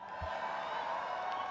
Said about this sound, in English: Wow, very big applause line.